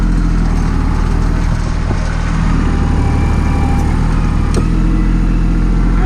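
A farm tractor engine runs loud and close while composting a garden, a steady heavy rumble with a brief louder burst near the end and no talking.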